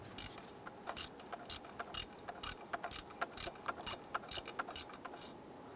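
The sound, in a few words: ratchet loosening 8mm EGR tube bolts, Chrysler 300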